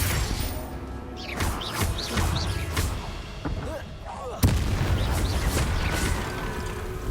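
Heavy crashing blasts of the Confringo curse in the Hogwarts Legacy video game boom repeatedly amid game noise and voices, with one especially sharp, loud burst near the end.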